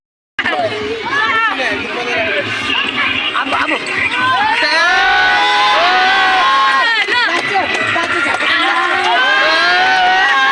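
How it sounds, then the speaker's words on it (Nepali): A crowd at a school futsal match in Lalitpur, Godawari cheers loudly after their team wins, with sustained, close, dense shouting, clapping and excited voices, including children's, that never lets up. "ताली जोरदार"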